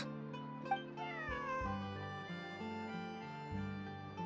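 A cat meows in a Genshin Impact video game cutscene, a couple of clear drawn-out meows layered over sustained background music, no speech.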